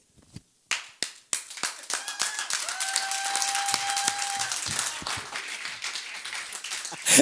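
A church congregation claps during a sermon: scattered single claps at first, then building into dense, continuous applause that fills the room, with a brief sustained tone audible partway through.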